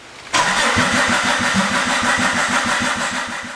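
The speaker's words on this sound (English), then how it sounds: "We're going to try to crank the engine and see if it starts." A Chrysler PT Cruiser engine cranks continuously with a rapid rhythmic chugging from the starter, loud and close, never catching or settling into an idle.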